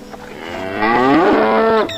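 A single loud, drawn-out buffalo moo rising and falling in pitch, close by and lasting about a second and a half.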